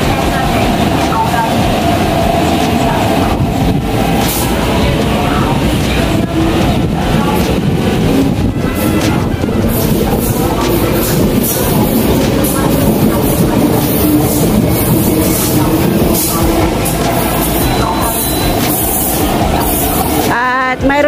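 A long Hong Kong train pulls out of the station with a steady, loud rumble of wheels and rail clatter that fills the whole stretch up close, swelling slightly as the cars roll past.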